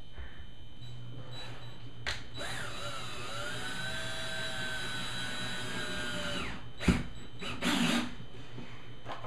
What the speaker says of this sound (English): you can actually do a pilot hole and you can pre-drill it